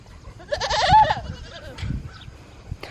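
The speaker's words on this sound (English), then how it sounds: "This little goat right here." A small hornless goat lets out one short, wavering bleat close by, followed by quieter rustling and faint farmyard noise.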